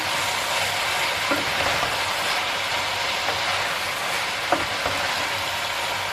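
Peppers fry in a pan with a dense, continuous sizzle and crackle, steady and close, broken by a few faint clinks of a utensil.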